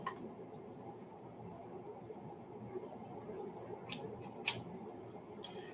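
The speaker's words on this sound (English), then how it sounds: "I cut it in half with my sharp scissors" Sharp scissors snip through a hog maw in the kitchen, a few faint close clicks and crisp cuts over a low, steady room hum, with one louder snip near the end.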